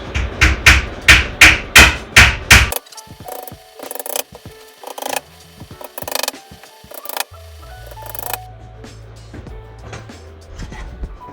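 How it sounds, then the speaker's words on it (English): Nails are hammered into the backer board of an IKEA Sektion kitchen corner cabinet: about seven loud, evenly spaced blows come first, then quieter scattered taps, clicks and the clatter of handling. "So now we're going to turn it on its back and put in the nails."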